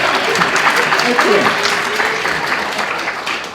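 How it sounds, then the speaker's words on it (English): An audience at a motivational talk claps loudly and continuously for a few seconds, with a speaker briefly talking over the applause. "Yes, you can clap."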